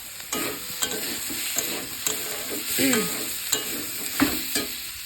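Curry being sautéed with spice paste in a pan, a steady sizzle broken by repeated scraping and stirring strokes of a spoon, close and fairly loud, with no talking.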